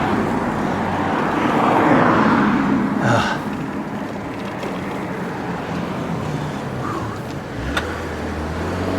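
A small car passes a cyclist on a shoulderless coastal road. The engine and tire roar swells close by and then fades, leaving steady road and wind noise with no talk.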